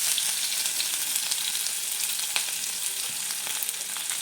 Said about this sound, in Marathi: तर आपले कांदे परतलेले आहेत